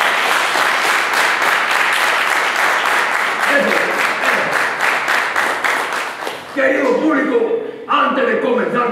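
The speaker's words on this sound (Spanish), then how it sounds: "un fuerte aplauso para él" Audience applause at a puppet theatre premiere, a dense broadband clapping from a crowd that holds steady for about six seconds, then thins as a voice begins talking over the last few seconds.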